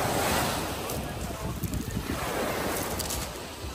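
Sea surf washes in steadily with gusty wind buffeting the microphone, a continuous broad roar that swells and eases slightly throughout.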